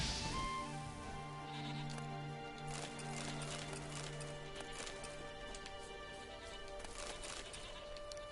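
Goat bleats from The Witcher 3 over a busy game soundscape with steady musical drones, sounding a few times close by alongside hoof clip-clop, with no talk.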